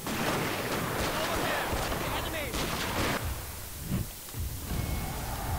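Rifle volley fire in a video game comes as a dense, loud, crackling burst of overlapping shots that fills the whole stretch with noisy rumble.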